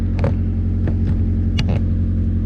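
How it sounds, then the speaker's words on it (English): A Mazda 323 engine with a new exhaust tip rumbles low and steady with exhaust drone as the car moves, with a few faint clicks and rattles on top. "I'm gonna go ahead and move the car"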